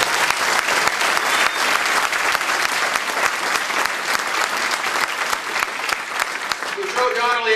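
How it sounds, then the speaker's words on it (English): Applause from a crowd of UAW members at a political rally, sustained dense clapping held at a steady level for several seconds, with a voice starting to speak near the end. "let's give him a round of applause"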